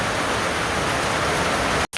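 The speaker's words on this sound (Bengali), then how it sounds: "বাবা রে বৃষ্টি নামছে রে খুব বৃষ্টি নামছে" Heavy rain pours down in a dense, steady, loud hiss with no breaks, cutting off abruptly at the very end.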